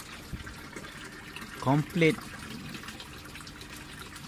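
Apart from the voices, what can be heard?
water flushing down into flood and drain gutter grow beds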